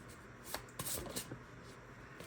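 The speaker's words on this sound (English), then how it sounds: "It's not the easiest to shuffle." Textured cardstock tarot deck being shuffled by hand, a few short papery riffles and scrapes close to the mic, quiet with no talk.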